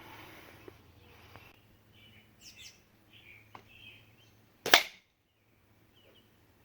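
A single sharp gunshot cracks loudly once in a quiet outdoor setting, fired at a paper target slanted about 45 degrees, with faint bird chirps before it.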